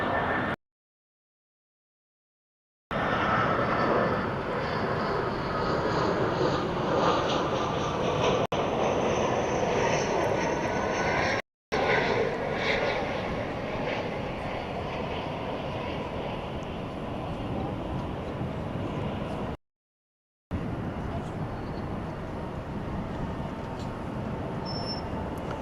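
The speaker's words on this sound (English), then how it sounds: "Arriving from Monterrey, Mexico, an Airbus A319." An Airbus A319 arriving from Monterrey, Mexico, at DFW Airport at night gives a sustained jet engine roar, moderately loud and steady, broken by a few short dropouts to total silence.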